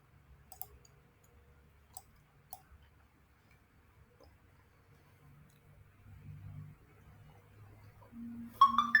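Several sharp, sparse mouse clicks sound while someone navigates Facebook Ads Manager on a computer. They come near and isolated in a quiet room, and faint murmuring and other sounds build toward the end.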